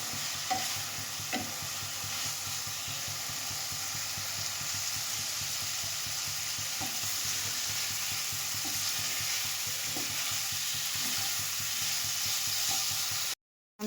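Lote greens sizzle steadily in a pan over a high gas flame while a utensil stirs them, a continuous close frying hiss with repeated scraping strokes and no talking, ending abruptly.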